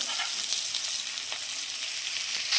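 Ginger and chili pieces crackle as they fry in hot oil for a seven-grain khichdo, a steady close sizzle with small pops throughout and no talking.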